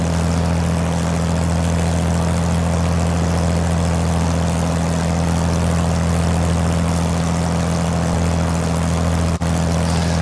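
A propeller aircraft drones steadily and loudly over Brighton near the beach and pier, its engine hum constant and close with no pauses.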